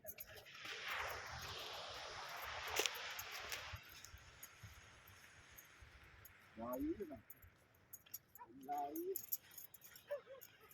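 Dogs on a cold sandy beach at high tide, giving a few short whimpering yelps and barks in bursts over steady wind and surf noise, with a loud knock early on.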